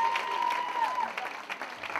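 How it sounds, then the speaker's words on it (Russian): Audience applause at an adult standard ballroom dance final, a steady crowd clapping with a brief whistle-like tone early on and some voices in the hall. "Громкие аплодисменты."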